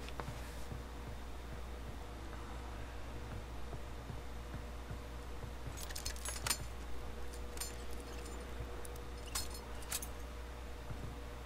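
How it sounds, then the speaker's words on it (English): Car keys jangle in the Friday the 13th video game, a few brief metallic clinks near the end over a constant low hum, with no voices. "I got the car keys already"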